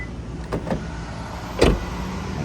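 Door locks on a Hyundai Sonata actuate via the door-handle button, giving a pair of quick close mechanical clunks followed by a louder single thunk, heard alone in a quiet car.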